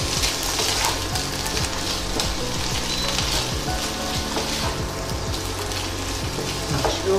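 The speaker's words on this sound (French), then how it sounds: "Je vais les faire revenir pendant 5 bonnes minutes." Salsify pieces sautéing in melted butter in a pan, an even, close crackling sizzle with occasional stirring scrapes, continuous and fairly loud with no voices.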